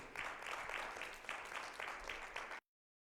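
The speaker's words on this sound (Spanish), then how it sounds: "Pónganse de pie, hermanos. Denle un aplauso a Jesucristo." A church congregation claps steadily together after being asked to stand, a rhythmic round of applause that stays fairly quiet and then cuts off abruptly.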